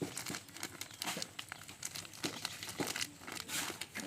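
A plastic bag crinkles and rustles continuously at close range while soil is packed into it around a lime tree branch being air-layered, with irregular crackling bursts of handling throughout.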